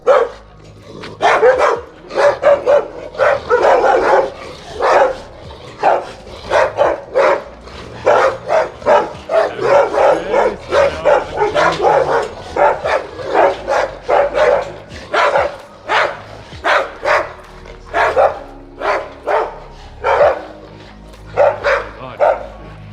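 Several dogs at an animal farm in Haputale, Sri Lanka bark steadily and repeatedly for over twenty seconds, sharp overlapping barks in quick bursts with a few yips, fairly close and loud, with no talking.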